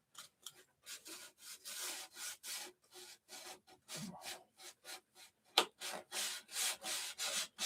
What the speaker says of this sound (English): Put it on, sand it off.